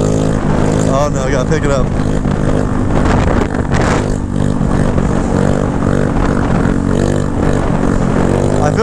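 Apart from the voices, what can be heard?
150cc GY6 stunt scooter engine revving during wheelie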